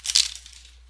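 A deck of cards is shuffled once during a card reading: a brief, crisp papery burst that fades quickly into near silence, heard alone with no talking.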